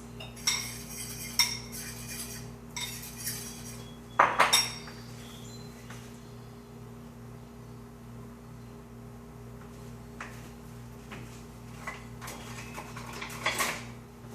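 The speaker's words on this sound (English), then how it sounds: "you're going to be stirring on, scraping the bits of sugar and flour off of the pan the whole time to make the roux gravy" A wooden spoon stirs and scrapes chocolate gravy of sugar, flour and 2% milk in a pan, giving intermittent clinks and scrapes with a few sharper knocks against the metal over a steady low hum.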